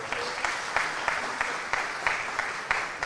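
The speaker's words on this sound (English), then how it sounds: "So let's give a round of applause for Gabby." Steady applause from an audience, many hands clapping in a dense, even wash with faint rhythmic accents.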